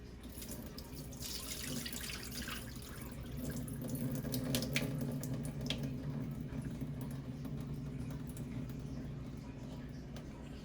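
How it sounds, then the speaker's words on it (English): Tap water runs and splashes over raw beef in a sink at home, a continuous rushing flow with patter and drips, fairly quiet, while a person talks now and then. "so now we wash our meat, right? Wash it a couple of times, right?"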